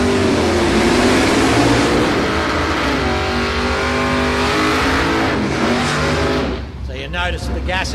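A 1960s-style gasser super sedan with a straight front axle on leaf springs revs hard at a street drag event, its loud engine roaring steadily before easing off near the end, with a commentator talking over it.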